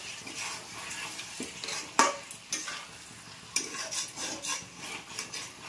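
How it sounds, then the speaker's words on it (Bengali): Chicken being mixed with lemon juice in a bowl for a gondhoraj chicken dish, heard as a steady wet stirring and rubbing with a few sharper scrapes against the vessel, close and fairly quiet, with no talking. "লেবুটা দিয়ে দিলাম, দিয়ে এবার আমি এটা ভালো করে মিক্স করে নেব।"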